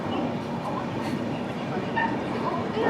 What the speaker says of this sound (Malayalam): നമ്മളങ്ങനെ ബലാർഷ ജംഗ്ഷനിലേക്ക് പ്രവേശിച്ചിരിക്കുകയാണ്.